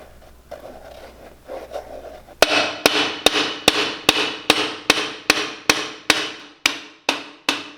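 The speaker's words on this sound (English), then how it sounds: "wet this and just try to hammer it out onto a piece of metal" Some quiet rustling, then a steady series of about fourteen sharp metallic hammer strikes flattening a wet shoe sole on a piece of metal, close and loud, evenly spaced.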